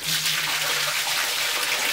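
Water gushing from a dropped bottom radiator hose on a Ford Transit during a coolant flush, a loud, steady, close rushing stream lasting throughout.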